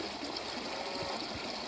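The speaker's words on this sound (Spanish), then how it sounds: "Voy a cruzar el río después de más de 30 años este río." River water runs continuously over stones in Apurímac, Peru, a steady close rushing flow with no voices.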